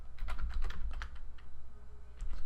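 Fingers tapping quickly on a computer keyboard while coding, a rapid uneven burst of close clicks that slows into a few scattered keystrokes, over a low steady hum.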